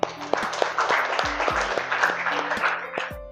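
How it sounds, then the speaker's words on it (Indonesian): Students in an Indonesian religious-education class clap at the end of a lesson, a brief, lively round of close hand claps with some thumps and voices mixed in. "Beri tepuk tangan dong."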